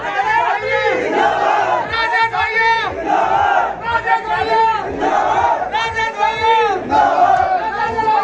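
Crowd of supporters greeting a newly elected MLA from Maat, Mathura, in Uttar Pradesh, chanting and cheering in loud rhythmic bursts of massed voices that rise and fall roughly every second, close and energetic throughout.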